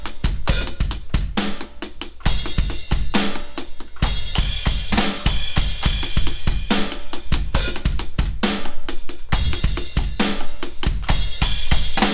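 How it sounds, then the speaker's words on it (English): A full drum kit plays the verse beat of a song alone, a steady rock beat with kick and snare driving under constant cymbal wash, loud and close. "that verse beat without music sounds like this"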